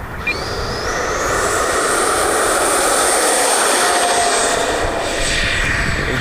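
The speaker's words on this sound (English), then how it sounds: "let's get ready for the maiden flight of the brand new Freewing twin 64mm F-14 Tomcat" A Freewing twin 64mm electric ducted-fan F-14 Tomcat RC jet takes off on its maiden flight, a loud, steady rushing whine with a rising pitch that fills the clip without talk.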